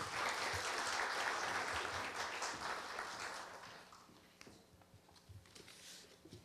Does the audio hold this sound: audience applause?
yes